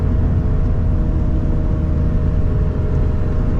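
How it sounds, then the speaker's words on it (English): Interior of a heavily modified Infiniti G35 cruising on a road, a loud, steady engine drone and rumble throughout with no pauses or sharp changes. "I forgot how much I love just driving on some roads"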